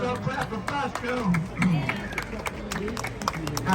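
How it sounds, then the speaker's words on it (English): A crowd of passengers on a San Antonio river tour boat claps for a birthday, a steady patter of applause with voices and chatter mixed in throughout. "let's all clap for Bosco"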